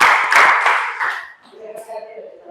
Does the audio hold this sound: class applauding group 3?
yes